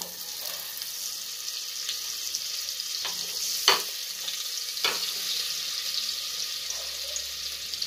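Butter sizzles and fries in a hot pan with white oil for a paneer butter pulao, a steady hiss throughout broken by a few sharp pops and crackles, with faint clinks of utensils.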